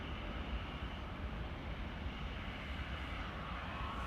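An Airbus A380 at Amsterdam Schiphol Airport gives off a steady, distant jet engine roar, a constant broadband rumble that holds even for several seconds with no voices.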